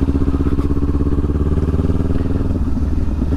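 A motorcycle engine drones loudly and steadily on a road trip in New Zealand, with rough wind buffeting over the engine throughout.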